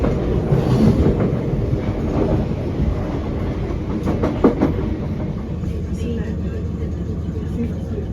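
A train rolls along the rails near Queenstown Road station in Wandsworth, a loud steady rumble with faint clatter of the wheels that stays close and continuous throughout.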